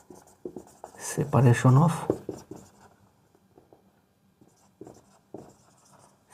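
Marker or chalk writing on a board during a lecture, close squeaky strokes and taps in short bursts, with someone speaking between them.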